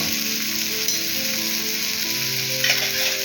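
Surmai kingfish frying in a pan, giving a strong, close sizzle that holds steady for a few seconds, with a brief flare of spattering near the end and no speech.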